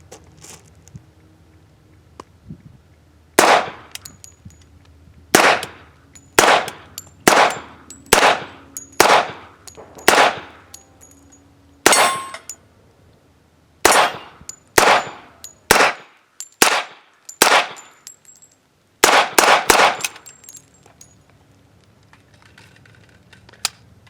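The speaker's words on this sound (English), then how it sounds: "here's Luke shooting the VMAC 10 with the Ventura processed brass 230 grain ball ammo" A VMAC 10 pistol in .45 ACP fires 230-grain ball ammunition with processed brass on an outdoor range: roughly fifteen sharp, loud shots in an uneven string, some spaced apart and a quick cluster near the end.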